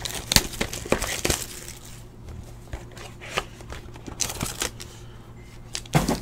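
Bowman baseball card pack wrapper crinkling and tearing open, close crisp rustles and snaps in bursts, loudest at the start and end with a quieter middle.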